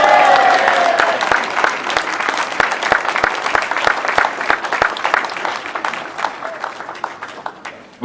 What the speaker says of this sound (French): vous allez continuer à applaudir parce que Swazik aujourd'hui c'est son anniv